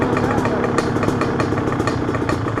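Dirt bike engine idling nearby with a steady, throbbing mid-range putter and a loud, even rhythm throughout, while voices talk faintly underneath.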